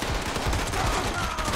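Pepper Shaker gun firing rapidly in the video game Fallout 76, a dense burst of overlapping shots in quick succession, loud and close across the short stretch.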